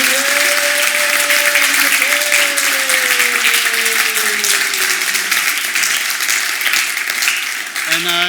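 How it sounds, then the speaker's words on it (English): Steady, loud applause from an audience at a live-streamed event goes on throughout, with a voice speaking over the clapping. "Round of applause for the one, the only Julien."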